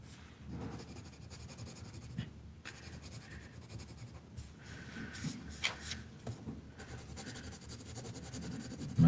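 Pencil or pen scratching on paper while sketching tulips, soft irregular strokes close by and quiet, with small pauses between lines.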